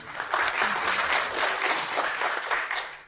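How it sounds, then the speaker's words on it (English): Audience applause at a university event, a steady dense wash of many hands clapping at full volume for about three seconds, with no talking over it. "Big round of applause for both of them."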